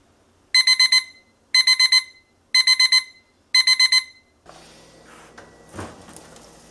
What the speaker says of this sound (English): I'm going to set my kitchen timer to 25 minutes